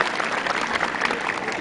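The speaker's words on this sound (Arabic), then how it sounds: "صفقوا لرجالنا الحاضرين وغير الحاضرين" Brisk applause from an audience at a road-safety awareness day in Sidi Amer, a dense, fairly close patter of many hands clapping continuously.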